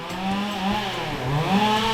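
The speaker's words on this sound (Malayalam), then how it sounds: "അവിടെ മരം മുറിക്കുന്നുണ്ട്" A chainsaw cutting trees near the path at Amboori in Kerala gives a continuous, fairly close engine whine that wavers in pitch and stays steady in loudness for the whole stretch, with no talk.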